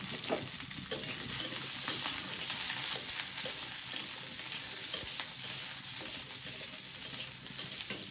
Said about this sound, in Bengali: এখানে বেগুনটাও দিয়ে দিলাম একটু ভাজা হওয়ার জন্য